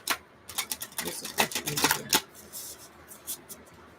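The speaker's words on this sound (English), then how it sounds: "Last shuffle." Oracle cards shuffled by hand, a rapid run of crisp riffling snaps up close that stops abruptly, followed by softer scattered rustles.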